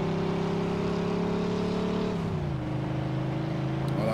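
Car engine in Mafia 2 accelerating steadily, a loud sustained drone rising in pitch, then dropping as it shifts gear and climbs again, with no talk over it.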